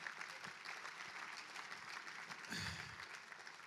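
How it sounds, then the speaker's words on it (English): Audience at an awards event applauding in a dense, steady patter of clapping that swells briefly near the end, heard from within the room. "So a huge round of applause for everyone."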